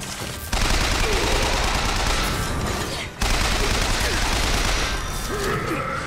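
Dense gunfire from the video game BioShock Infinite, a continuous loud barrage of rapid shots with a sniper rifle in play, broken by one brief pause midway before the firing resumes.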